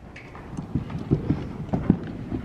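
A horse canters around an arena during a riding lesson, its hoofbeats thudding in a quick, steady three-beat rhythm, moderately close and clear with no talk over them.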